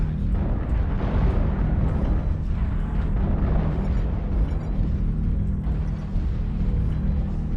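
Deep, sustained rumbling explosions from an artillery strike in the MechWarrior Online battle game, loud and continuous with dense low-end booms rolling together and no clear gaps.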